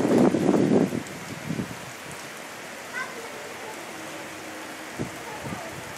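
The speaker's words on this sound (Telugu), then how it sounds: "పీబీపాలెం మండలాల్లో భారీ వర్షం పడింది." Heavy rain falls across Prakasam district in Andhra Pradesh as a steady, even hiss, with a few louder rumbling bursts at the start.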